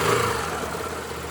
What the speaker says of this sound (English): doesn't sound too bad, little engine.